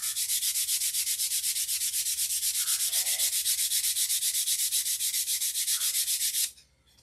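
Sandpaper of 320 grit rubbing scratches out of a model aircraft fuselage, a fast, even back-and-forth rasp held steadily for about six seconds before stopping abruptly, close and fairly loud, with no voices.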